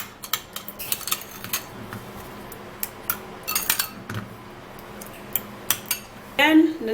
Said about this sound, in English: I'm going to be taking 1 tablespoon of the sugar into this aloe vera, and then we would have to give it a mix